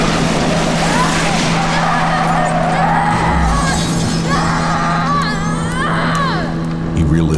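A truck careens toward a helpless old blind man in a dramatized street scene, loud with a sustained engine hum, a crash-like shatter and rising skid squeals, with a voice speaking over it.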